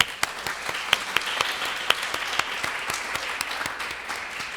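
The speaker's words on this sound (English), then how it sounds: "Let's give her some applause." A small audience claps for the speaker Savannah after an academic talk, with individual sharp claps standing out from a steady patter of applause at close range.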